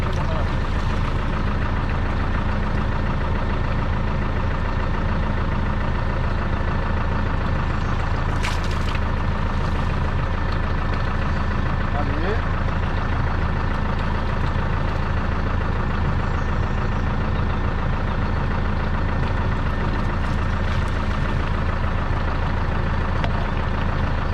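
A Deutz Fahr tractor engine idles steadily in a field with a constant low diesel rumble and drone throughout, loud and close, with a brief click partway through.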